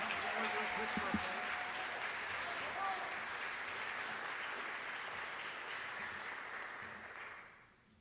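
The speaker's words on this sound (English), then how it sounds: "Let's have one more big round of applause for the instrumental awards." Audience applause at a high school award ceremony honoring instrumental awards, steady dense clapping from a crowd that fades out at the end, with a faint voice early on.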